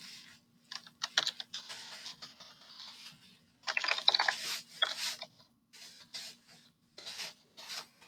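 Login ID typed on a computer keyboard: bursts of quick, close key clicks in uneven runs, separated by brief pauses.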